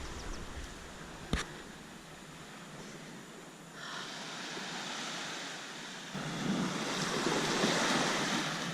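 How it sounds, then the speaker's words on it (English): Surf rolls in on an empty beach on the Brittany coast, a steady wash of waves with wind buffeting the microphone and one sharp knock early on. "Beach number 2. And it's all to ourselves."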